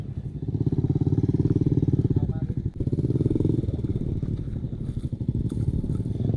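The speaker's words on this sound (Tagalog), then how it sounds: "Tumitikos na daw yung motor." A motorcycle labors up a rough trail in the Bayabasan tribal area, its engine chugging loudly and close in a fast, steady pulse with rattles and clatter, while voices talk over it.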